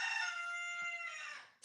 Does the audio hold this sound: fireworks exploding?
no